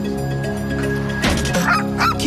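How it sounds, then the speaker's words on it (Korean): Outdoors, a dog gives a few sharp, wary barks at an approaching electric wheel, loud and close, following a stretch of quieter background sound. "킥보드와 자전거 때와는 달리 짖으며 경계합니다"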